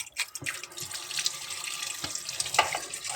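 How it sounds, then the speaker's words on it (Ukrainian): A kitchen tap runs strongly into a large pot of meat, a steady close splashing rush with small clinks and knocks throughout. "Зараз додавлю води і хай собі набирається."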